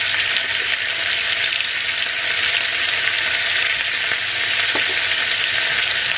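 Carrots and mixed vegetables stir-fry in a hot pan for Chinese-style pancit noodles, a steady, loud, continuous sizzle with faint stirring scrapes and no talking.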